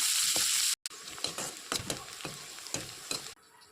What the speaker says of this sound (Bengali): তেল গরম হয়ে গেছে, পেঁয়াজ আর তেজপাতা ভেজে নেব।